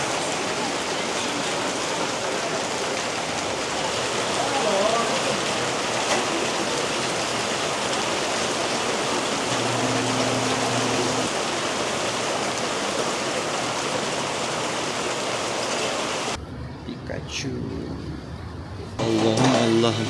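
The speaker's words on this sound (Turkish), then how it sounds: "Tayvan yağmurunu da yemedik demeyiz. Güzel yağıyor." Heavy rain pours steadily in Taiwan, a loud, dense hiss of water hitting surfaces close by, with a brief quieter stretch near the end; someone talks over it.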